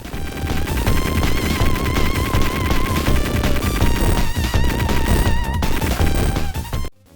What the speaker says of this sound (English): Now let's jump over to Contra Hard Corps, and you will find that the weapon sound effects sound more arcade-like. The machine gun has a realistic sound effect to it,